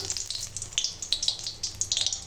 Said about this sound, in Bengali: এখন কড়াই দিয়েছি সর্ষের তেল আর দিয়ে দিলাম শুকনো লঙ্কা ফোড়ন